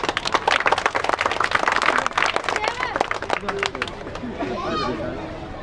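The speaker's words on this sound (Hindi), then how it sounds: "एक बार जोरदार तालियां" Loud crowd applause at a neighbourhood political gathering in Bhim Nagar, Nangloi, dense clapping for about three seconds before it thins out, giving way to voices and chatter.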